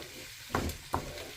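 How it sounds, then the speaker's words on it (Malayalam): Chilli chicken is mixed in a hot pan, its soft frying hiss broken by two distinct scraping clatters of a utensil about half a second apart. "ഇത് നന്നായിട്ട് മിക്സ് ചെയ്തോ."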